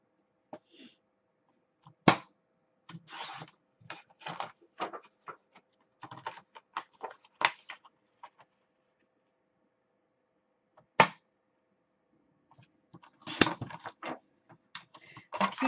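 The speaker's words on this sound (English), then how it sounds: "I've already scored it, so all I got to do is just cut it." Scored pink and cream cardstock is cut in short, crisp bursts of snipping and clicking with pauses between, close and fairly quiet against an otherwise silent room.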